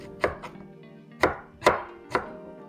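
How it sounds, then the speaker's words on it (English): A knife dicing an onion on a cutting board: five crisp, close chops at uneven intervals, each a short sharp thud with quiet pauses between. "Turn it 90 degrees and into small dices"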